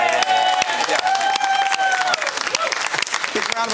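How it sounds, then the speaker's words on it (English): A studio audience on a live television morning show applauds in a dense, continuous burst of clapping. Cheering and a sustained vocal tone rise over the clapping throughout. "Round of applause for Jim."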